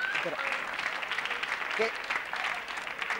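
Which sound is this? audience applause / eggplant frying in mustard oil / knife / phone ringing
audience applause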